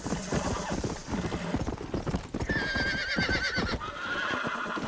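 Horse hooves clip-clopping at speed in Red Dead Redemption, with a horse neighing and whinnying partway through, all under dense game music and ambience.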